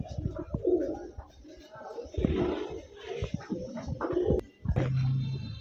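Giribaz pigeons coo in low, throaty bursts close by, repeating in uneven phrases with some rustling in between.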